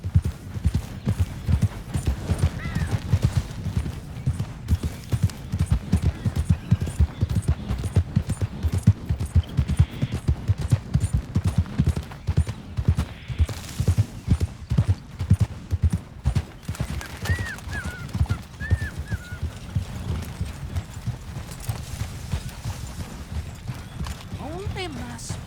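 A horse gallops in the Red Dead Redemption 2 video game, its rapid clip-clop hoofbeats close and loud in a steady driving rhythm throughout, with faint voices now and then.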